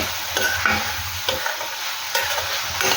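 Mutton keema being stirred with garam masala in a pan, a steady sizzle under repeated scraping strokes of the spoon, close and fairly loud with no voices.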